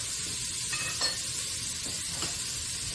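Minced jarred garlic, about three teaspoons, sizzles steadily in a hot pan for a creamy chicken tetrazzini, with a dense continuous frying hiss and a few soft stirring scrapes and no talking.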